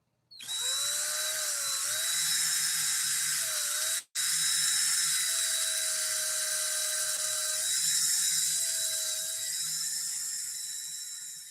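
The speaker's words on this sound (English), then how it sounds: "I used this DeWalt drill to get that thread on the bobbin" A DeWalt drill spins continuously while winding thread onto a sewing machine bobbin, a loud high whine that holds nearly steady, with a brief stop and restart partway through.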